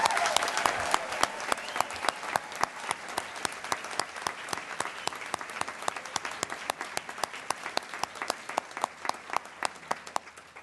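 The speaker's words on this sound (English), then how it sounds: "Let's give them all one more round of applause" Sustained applause from a large audience at a graduate commencement ceremony, steady dense clapping that slowly thins and fades over about ten seconds, with no talking.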